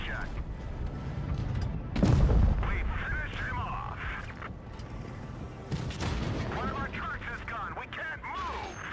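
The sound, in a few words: tank gun firing in a tank video game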